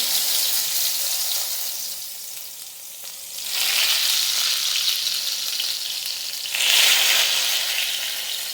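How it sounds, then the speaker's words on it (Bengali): Eggplant sizzles loudly in hot oil, with two sharp surges of hissing as more pieces drop into the pan, then a steady fry. "এক এক করে বেগুনগুলো কড়াইতে দিয়ে দেবো"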